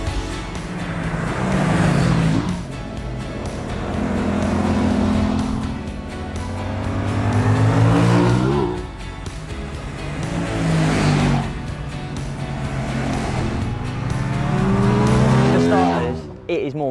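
An Aprilia RS 660 sport motorcycle's engine drones and swells continuously as it is ridden, rising and falling in pitch through the run, fairly loud and steady with no break.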